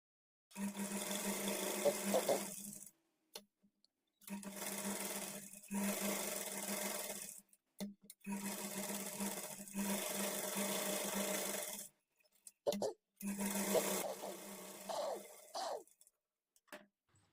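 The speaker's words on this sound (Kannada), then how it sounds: "ಈಗ ಲೈನಿಂಗು ಮೇನ್ ಫ್ಯಾಬ್ರಿಕನ್ನು ಅಟ್ಯಾಚ್ ಮಾಡ್ಕೊಳ್ಳೋದಕ್ಕೆ ಸುತ್ತಲೂ ಒಂದು ಸ್ಟಿಚ್" Sewing machine stitching a blouse lining to the main fabric all around the edge, running in several close, steady bursts of a few seconds each with short pauses between, no talking.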